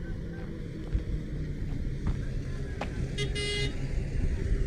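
Road traffic beside a roadside spot where deer and migratory birds are fed: a steady rumble of passing vehicles with a brief horn-like tone, wind noise and some faint voices.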